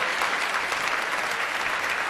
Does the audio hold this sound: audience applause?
yes